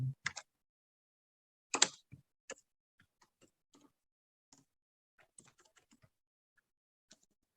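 Keys clatter on a computer keyboard while a line of Python code is typed, with a couple of louder taps at first and then sparse, faint, irregular clicks in a quiet room.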